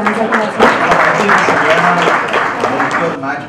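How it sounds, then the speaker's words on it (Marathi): An audience at a foundation day felicitation event in Mumbai breaks into loud, sustained applause, many hands clapping densely together for several seconds while a voice carries faintly beneath. "जोरदार टाळ्या आपण एका सरांसाठी"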